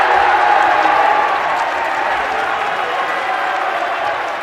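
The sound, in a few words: basketball crowd cheering after a made three-pointer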